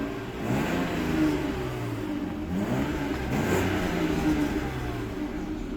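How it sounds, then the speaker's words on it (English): A car engine revs repeatedly, rising and falling in pitch in a steady, loud, close growl with a continuous mid-range hum, and no talking. "we're saying rev your car."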